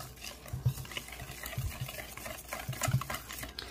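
A whisk stirring bibingka batter of mix, sugar, water and egg in a bowl, with soft rhythmic scraping strokes and a few louder knocks, close and alone without talk.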